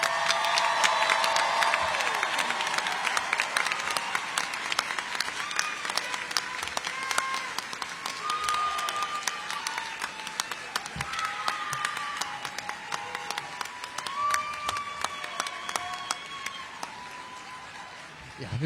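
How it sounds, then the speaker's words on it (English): A big crowd at a high school commencement applauds and cheers for the graduates, loud dense clapping mixed with whoops and shouts, scattered voices calling out throughout, tapering a little toward the end. "How about one more big round of applause for our graduates?"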